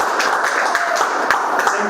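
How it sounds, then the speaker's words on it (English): A classroom round of applause at a grade 11 chemistry presentation, with steady, moderately loud group clapping throughout a brief burst. "We can give them another round of applause."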